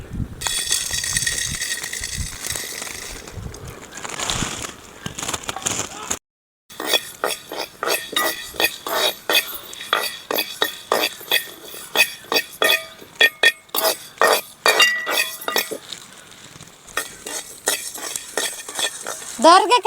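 Coriander seeds, peppercorns, cumin and cinnamon dry roasting in a hot pan, repeated dry scraping and rattling strokes of a spatula in quick bursts, with a brief silent gap and some faint voice sounds.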